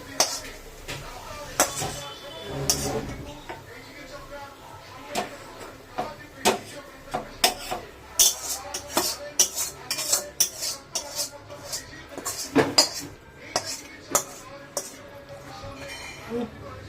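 Cabbage curry cooked with fish head is scooped from a pot into a serving dish. A metal spoon clinks and scrapes against the cookware in scattered bursts of varying loudness while a person talks throughout.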